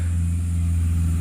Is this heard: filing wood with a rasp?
no